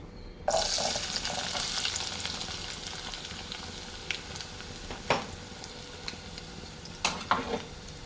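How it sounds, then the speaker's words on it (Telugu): Chopped onions and green chillies frying in hot oil for a chicken curry, a steady close sizzle starting abruptly after a brief pause, with occasional stirring clinks and scrapes over it, no talking. "ఆయిల్ మరుగుతుంది ఇప్పుడు ఇందులో కోసి పెట్టుకున్న ఆనియన్స్ పచ్చిమిర్చి వేసుకుందాం"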